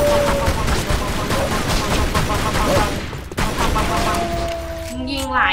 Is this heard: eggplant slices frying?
no